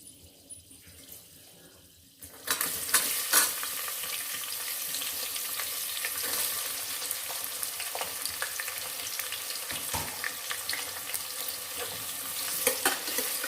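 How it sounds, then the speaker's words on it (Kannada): Chopped onions fry in hot oil in a pan for healthy peas pulao, a steady broadband sizzle that jumps up loudly after a quieter first two seconds, with occasional stirring scrapes and no talking. "ಈರುಳ್ಳಿ ಚೆನ್ನಾಗಿ ಫ್ರೈ ಆಗಬೇಕು."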